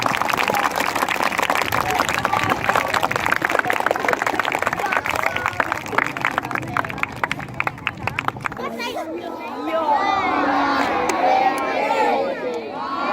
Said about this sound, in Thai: ขอเสียงปรบมือดังๆ ให้กับคณะวิทยากร